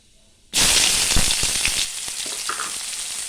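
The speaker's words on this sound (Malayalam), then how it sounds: "അതിലേക്ക് കുറച്ച് കടുക് ഇട്ട് കൊടുക്കാം അതിലേക്ക് കുറച്ച് കറിവേപ്പിലയും കൂടെ ഇട്ട് കൊടുക്കാം" Mustard seeds, curry leaves and chopped onion dropped into hot oil, bursting at once into a loud, steady sizzle with scattered popping crackles that eases only slightly, with no talking.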